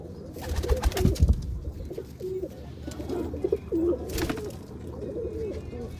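A pigeon coos in several short, throaty phrases, close and moderately loud, with a few thumps and rustles of handling around it.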